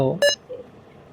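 A single short, bright electronic beep signals an incoming phone call in the Roblox horror game The Intruder, heard alone and clear against near silence.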